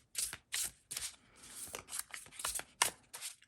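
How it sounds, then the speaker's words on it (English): Tarot cards are shuffled in quick, crisp riffles, a run of about a dozen papery bursts close up with no talking. "let me go ahead and give one more good shuffle here to the cards"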